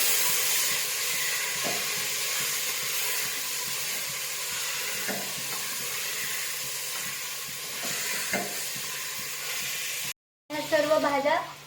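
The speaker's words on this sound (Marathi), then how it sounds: "त्याच्यानंतर आपण याला मस्त फ्राय करून घेणार आहोत।" Carrot, cauliflower and other vegetables fry in a pan with a steady, close sizzling hiss and faint stirring knocks, broken near the end by a brief gap and then a voice speaking.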